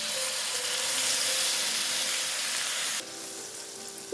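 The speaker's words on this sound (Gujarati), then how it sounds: "હવે આપણે આ જે કાંદો ચોપ કરીને રાખ્યો હતો એ અંદર સાતરી લઈશું." Chopped onion hits hot oil seasoned with asafoetida and turmeric, giving a loud, continuous close sizzle and hiss that drops slightly in intensity near the end.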